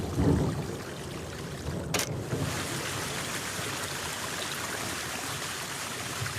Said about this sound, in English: while Kuno just hears an ordinary fountain.